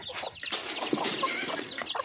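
Several chickens cluck and squawk nearby in a busy, overlapping chorus, fairly loud and close.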